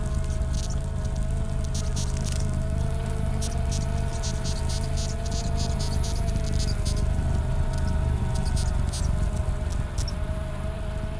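Inside a beehive, a moth mimics queen bee sounds amid a constant low hum of the colony, with steady tones and scattered soft ticking and patter throughout, no voices.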